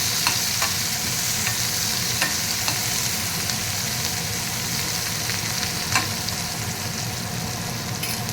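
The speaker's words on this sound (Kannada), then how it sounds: "ಸಣ್ಣದಾಗಿ ಹೆಚ್ಕೊಂಡಿರೋ ಹಸಿಮೆಣ್ಸಿನ್ಕಾಯಿ, ಸಣ್ಣದಾಗಿ ಹೆಚ್ಕೊಂಡಿರೋ ಬೆಳ್ಳುಳ್ಳಿ, ಕರಿಬೇವು ಹಾಕಿ ನೀಟಾಗಿ ಫ್ರೈ ಮಾಡ್ತಾರೆ" Chopped green chilli, garlic and curry leaves fry in hot oil for besan curry, a loud continuous sizzle with occasional scraping stirs of the pan, close up and steady throughout.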